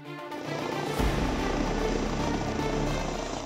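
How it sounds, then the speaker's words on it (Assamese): The chief minister's helicopter flies over Kaliabor in Nagaon, Assam, a loud, steady rotor and engine roar that holds with no voices. "হেলিকপ্টাৰ উৰুৱাই বুধবাৰে নগাঁৱৰ কলিয়াবৰত উপস্থিত হ'ল মুখ্যমন্ত্ৰী ডক্টৰ হিমন্ত বিশ্ব শৰ্মা"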